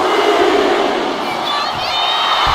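Loud, dense arena crowd cheering and roaring at a live WWE wrestling event, a continuous wall of voices swelling throughout with occasional louder shouts rising above it.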